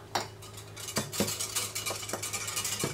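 A spoon stirs about four spoonfuls of powder into 250 ml of water to dissolve it, giving repeated close, light clinks of metal against the container at an irregular pace, with no talk.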